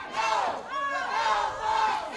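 A wrestling crowd in Nashville, Tennessee jeers the tag team New South, a dense, continuous roar of many voices with swelling shouts and boos throughout.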